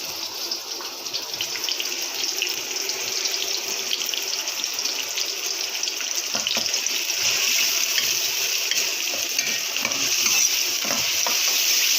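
Onions frying in a pan for a potato, fenugreek, carrot and pea dish, giving a steady, close sizzle with occasional stirring scrapes throughout, no talk.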